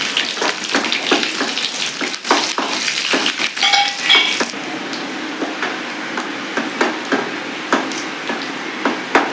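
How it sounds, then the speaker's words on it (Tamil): Onions hit oil with popped mustard seeds for a Tirunelveli fish curry tempering, giving a close, crackling fry with sharp irregular pops and spits over a continuous sizzle that eases slightly toward the end. "கடுகு பொரிஞ்சிருச்சு, வெங்காயம் போட்டுக்கலாம்."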